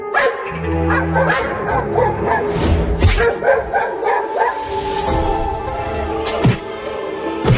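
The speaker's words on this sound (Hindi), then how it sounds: "वो कुत्ते उस लकड़ी के घर के सामने भौंक रहे हैं," Several cartoon dogs bark and yip repeatedly in front of a wooden house, loud and close, with rapid overlapping barks and occasional whimpers throughout.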